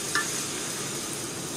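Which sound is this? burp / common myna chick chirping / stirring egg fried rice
stirring egg fried rice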